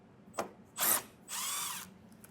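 A power drill fitted with a T15 Torx bit backs out screws on a 2025 GMC Terrain during hitch installation: a short blip, then two separate whirring runs, the second longer, close and moderately loud with no speech.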